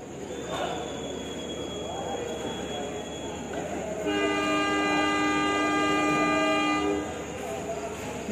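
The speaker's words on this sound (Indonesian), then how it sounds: "kereta api Pasuruan Tambang diberangkatkan dari stasiun Mojokerto" Pasuruan-Tambang passenger train departs Mojokerto station at night, a loud sustained multi-tone horn blaring for a few seconds over steady rumbling engine and rail noise, with people talking nearby.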